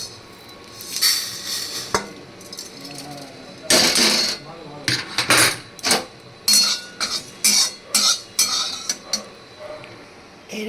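A metal kadai is lifted off the stove after frying, setting off a series of loud, close metallic clanks and clatters in an uneven rhythm, with quieter kitchen noise between.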